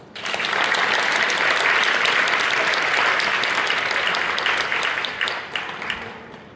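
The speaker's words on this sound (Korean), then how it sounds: "하나님 박수" A church congregation in Incheon applauding for God during a testimony service, a swelling round of crowd clapping that holds steady, then tapers off into scattered claps.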